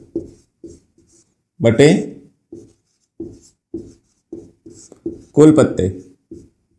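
Pen strokes scratch across paper during a Class 10 probability math lesson, in short repeated bursts, while a teacher speaks between them.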